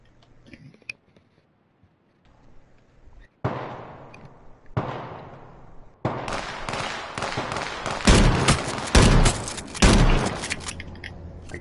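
Gunfire in the survival shooter H1Z1: after scattered quiet ticks, sharp shot-like bursts hit at about 3.5 and 5 seconds, then a dense, sustained volley of loud rapid shots runs to the end.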